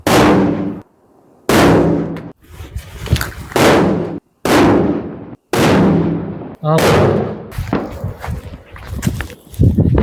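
Firecrackers explode outdoors during a Diwali night, a string of loud sharp bangs about every second, some with crackling tails, close and echoing, with faint talk in the background.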